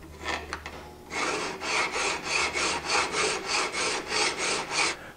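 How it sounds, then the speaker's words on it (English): A metal file is worked back and forth along the edge of a steel card scraper clamped in a vise, with about a dozen steady, even rasping strokes after a few short opening scrapes, close and fairly loud with no talking. "take the file, Mike, and we're just going to go along this edge"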